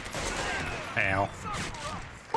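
Gunfire in the World War II shooter Medal of Honor: Vanguard, a steady rattle of shots throughout with a short shout-like burst in the middle, close and moderately loud.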